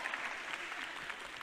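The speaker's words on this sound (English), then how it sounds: "Round of applause, please." Steady audience applause with dense clapping throughout, moderately distant and fairly quiet.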